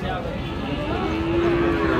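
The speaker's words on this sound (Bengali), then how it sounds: "এগুলো কিন্তু ছোটো ছোটো সব ষাঁড় বাচ্চা" Young bull calves moo at a busy cattle market, a drawn-out lowing call rising over steady crowd noise and murmuring voices, loud and close.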